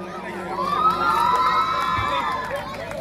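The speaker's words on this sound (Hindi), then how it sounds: "उनके लिए एक बार जोरदार तालियां" An audience of schoolchildren at Haji S.M. Mukaddam High School cheers and shouts loudly after a qawwali performance, a sustained, energetic wave of young voices filling the hall for about three seconds.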